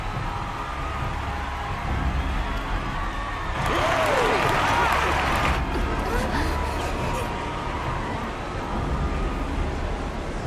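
A crowd cheers and applauds in a Final Fantasy XIV Online scene, a steady wash of massed voices that swells loudest for a couple of seconds midway before settling back to a constant roar.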